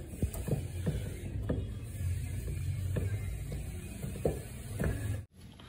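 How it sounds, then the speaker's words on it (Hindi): A socket wrench with a 10 mm socket works loose the pulley bolt on an LG washing machine spin motor, making a string of sharp clicking ratchet strokes with small creaks in between, close by and with no talk. "इसको हम 10 नंबर की गोटी की सहायता से आसानी से खोल सकते हैं"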